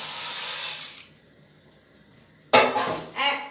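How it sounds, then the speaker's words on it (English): Dry pasta is dropped into a pot of boiling salted water for Sicilian baked pasta, starting with a soft rustle, then a pause, then a sudden close clatter and scrape against the pot. "To put the pasta in the boiling water"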